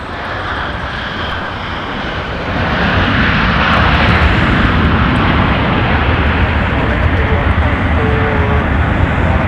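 An airliner arriving from Cancun roars loudly at Minneapolis–St. Paul airport in winter, a broad steady engine rumble that swells partway through and holds strong.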